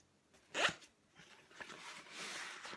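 A zipper pulled on a compartment of an everyday-carry bag gives one short, close rasp, followed by faint rustling and handling noise.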